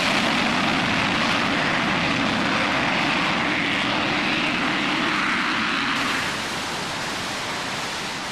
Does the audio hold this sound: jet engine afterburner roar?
yes